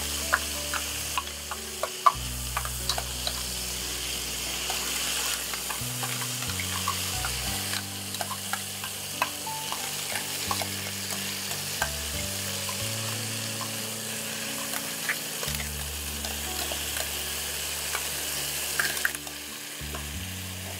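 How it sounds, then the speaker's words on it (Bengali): Chicken for kali mirch fries with a spice paste in a pan, giving a continuous moderate sizzle broken by frequent sharp pops and light stirring scrapes. "চিকেনগুলো অলমোস্ট ফ্রাই হয়ে গেছে।"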